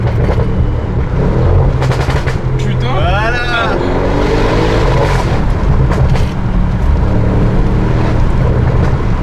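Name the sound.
Audi RS6 car engine and exhaust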